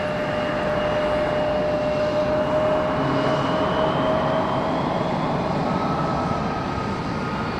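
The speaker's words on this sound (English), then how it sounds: "coming in from Charlotte, an A321. About to touch down." American Airlines Airbus A321 arriving from Charlotte on final approach at Raleigh-Durham, a continuous engine rumble with a thin whining tone drifting across it, steady and moderately loud, no talking.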